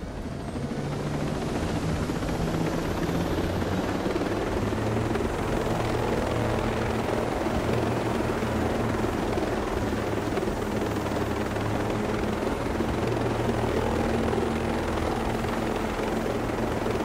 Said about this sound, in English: Let's go ahead and take this helicopter.